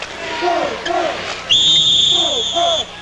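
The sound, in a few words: referee whistle at basketball game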